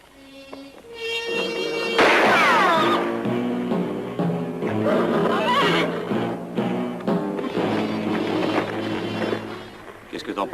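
Horses whinny loudly amid a busy, chaotic horse-theft scene in a western film, with shouting French voices and a dense music-like wash layered over the neighs.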